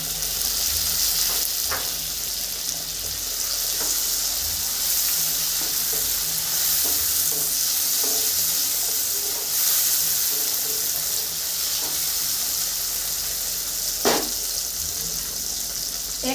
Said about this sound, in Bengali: এই পেঁয়াজ ভেজে নিয়েছি, এতে দিয়ে দেবো কাঁচা লঙ্কা চিরা আর টমেটো কুচি।